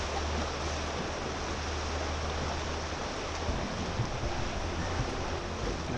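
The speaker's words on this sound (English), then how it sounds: "Tide is pouring in. Look at the tide coming into here." Incoming tide current pouring into Galveston Bay, a steady broadband rushing of water with a low rumble, constant and close, with no voices.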